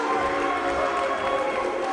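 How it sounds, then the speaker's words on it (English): A dense wrestling crowd at the Pro Wrestling World Cup finals roars steadily as Ospreay is kicked by Kushida, a loud sustained wash of voices that sits close and never lets up across the moment. "This crowd can boo all they want"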